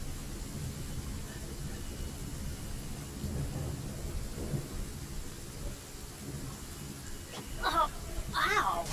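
Thunder rumbles low and continuously with rain during a storm in a video game, a broad steady roar with a louder swell near the end, under some speech.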